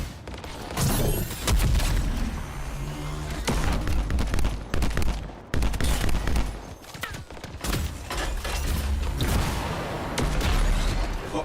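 Turret gunfire in the sci-fi shooter Anthem cracks out in dense, irregular bursts of loud shots and booms, with brief pauses between volleys.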